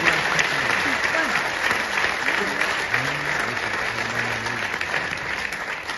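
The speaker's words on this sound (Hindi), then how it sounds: "ये ताली पहले बजा देते तो इतना खून खराबा नहीं करना।" Audience applause at a Hindi stand-up comedy show, a steady, dense clatter of clapping from a large crowd that holds at an even level throughout, with a few voices faintly mixed in.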